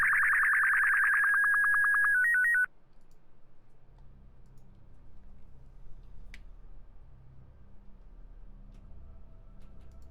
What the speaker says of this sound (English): Beeps, beep volume, bring that down.